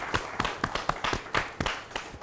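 An audience at a women farmers' awards show claps in a steady rhythmic beat, about four sharp claps per second in unison, close and moderately loud without talk.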